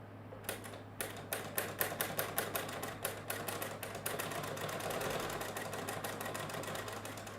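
A sewing machine stitches through several layers of fabric for a gnome pattern at a short stitch length, its rapid rhythmic needle clatter speeding up into a steady close whir over a low hum, no talk.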